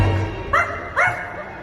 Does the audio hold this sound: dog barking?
yes